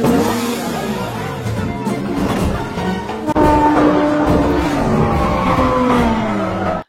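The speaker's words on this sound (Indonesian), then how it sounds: "Jun dan Roy kabur dengan sebuah sepeda motor berwarna merah." Car chase action from the film Knight and Day as a red motorcycle escapes pursuers: loud, continuous engine roar with revving and tire squeals, a sharp jolt midway, then sustained racing noise throughout.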